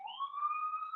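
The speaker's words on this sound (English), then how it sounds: "Sorry about the sirens." A faint siren wails steadily in the distance, its tone slowly rising, heard alone for a brief moment.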